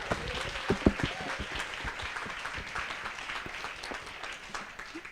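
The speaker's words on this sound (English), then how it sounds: "So I wanted to actually just do a big round of applause for both our local sponsors and for our global" A smaller audience applauds sponsors at a final presentations event, scattered individual claps audible within a steady patter that continues throughout, moderately near and fairly soft.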